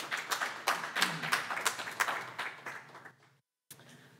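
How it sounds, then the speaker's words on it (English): Applause for the poetry readers at a poem jam, a small audience clapping at a modest level, fading out after about three seconds, then brief silence and a sudden new sound. "Another round of applause for all of our readers, please."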